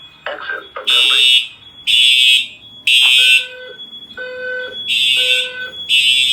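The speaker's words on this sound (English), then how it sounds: "This is a fire alarm. Exit the building." A Simplex fire alarm system sounds loud repeating horn blasts in regular pulses, alternating with a synthesized voice evacuation message between tones, indoors and close up.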